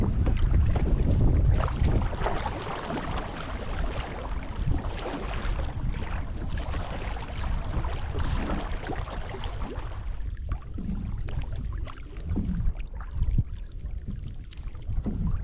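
A sea kayak paddles through the Menai Straits off the Isle of Anglesey under strong wind, with steady loud wind buffeting and water rushing along the hull throughout.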